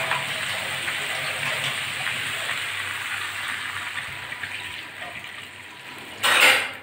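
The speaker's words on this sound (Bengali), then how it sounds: "এবার জল দিয়ে দেব।" Water poured into a pan of frying vegetable stalks for a mustard-paste stalk curry, a steady hissing rush close up, ending in a brief louder splash.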